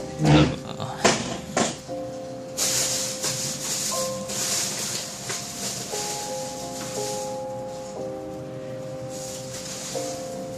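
An improvised fountain pen being sanded with 400-grit sandpaper, soft rasping rubs close by under steady background music, with a few louder handling knocks at the start.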